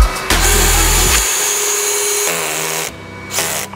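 A power drill backs screws out of a wall bracket fixed against an angled piece of wood, its motor whirring loud and steady for a few seconds with a short pause and a brief restart near the end.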